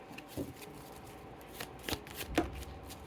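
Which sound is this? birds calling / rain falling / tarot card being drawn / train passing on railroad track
tarot card being drawn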